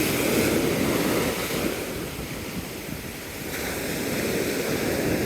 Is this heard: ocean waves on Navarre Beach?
yes